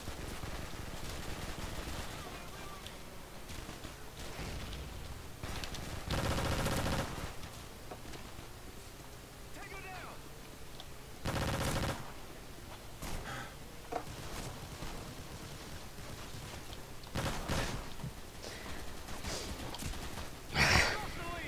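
Shotgun blasts in Call of Duty 4 on the Nuketown map ring out as several loud, separate bursts scattered through continuous game noise, with a voice talking over much of it.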